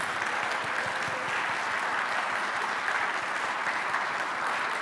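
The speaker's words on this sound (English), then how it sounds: "Give yourselves a round of applause." Steady, full applause from a crowded audience at a U.S. Senate Democratic primary debate, a dense and even roar of many hands clapping at once that holds without a break.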